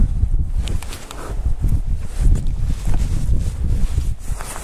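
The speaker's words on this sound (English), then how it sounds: "The damn wind." Strong outdoor wind buffeting and roaring steadily across the microphone, loud and close, with no talking.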